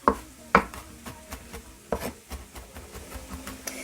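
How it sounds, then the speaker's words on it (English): A knife minces garlic on a cutting board for bruschetta chicken, a few sharp chops near the start, then a run of quick, lighter taps continuing steadily and close by, with no talking. "But keep mincing and mincing and mincing."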